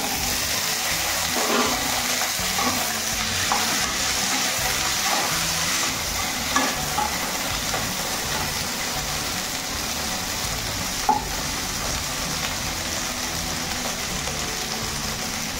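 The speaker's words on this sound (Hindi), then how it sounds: "एबे तेल गरम हो गलानी हमें प्रथम भेंडी की भाजी दवा।" Whole okra (bhindi) frying in hot oil for Indian bhindi masala, a steady broadband sizzle with a few faint clinks and stirring sounds, no talk.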